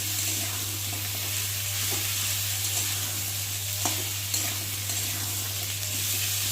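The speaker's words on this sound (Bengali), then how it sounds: "মশলার সাথে মশলাও ভাজা হবে আলুও ভাজা হবে" Potatoes fry with spices in a pan, sending out a steady, fairly loud sizzle with a few soft stirring knocks over a low constant hum, and no one speaks.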